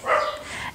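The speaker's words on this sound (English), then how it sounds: "apologies for the dog barking next door" A dog barking next door, heard through the wall as a short, muffled, midrange yelp or bark that swells and fades within a moment, moderately loud and on its own.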